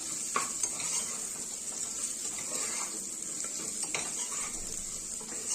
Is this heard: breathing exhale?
no